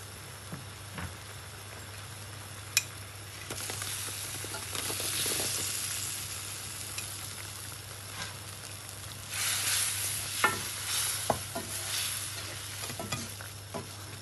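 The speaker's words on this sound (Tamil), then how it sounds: "ஓகே, குழம்பு கொதிச்சிருக்கு. இப்போ இதுக்குள்ளே நாங்கள் என்ன செய்ய போகிறோம்னா பொரித்து வச்ச கருணக்கிழங்க ஆட் பண்ணுவோம்." Fried elephant foot yam added to a simmering curry and stirred in, a soft continuous sizzle over a low hum, with spoon scrapes and knocks and bursts of louder hissing.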